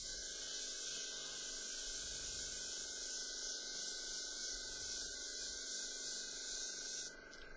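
Airbrush blowing a steady, continuous hiss of overspray across heavily textured artwork, close and even in level throughout, cutting off briefly near the end.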